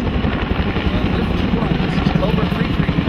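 UH-1 Huey helicopters fly inbound to a landing zone at an airshow, giving off a continuous loud rotor thump and engine roar that holds steady throughout, with no talk over it.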